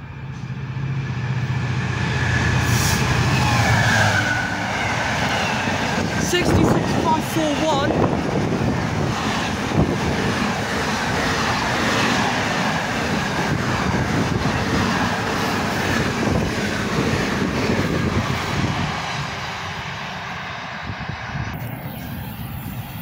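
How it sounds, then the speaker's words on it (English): A freight train passes through Rugeley Trent Valley station on the fast line, a loud, sustained rumble of wheels and wagons that rolls on steadily for the whole stretch before easing slightly near the end, with some talk alongside. "Here's the freight."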